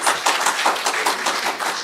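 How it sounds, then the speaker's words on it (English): An audience at a community dialogue applauds the facilitator with a steady round of clapping, close and lively throughout. "Let's give the facilitator a round of applause, please."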